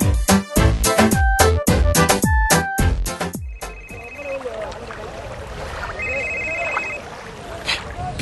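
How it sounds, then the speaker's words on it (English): A telephone rings with an incoming call, a rapid burst of several loud, evenly repeated trills, followed by a few quieter electronic tones under someone talking. "why aren't you picking up your phone?"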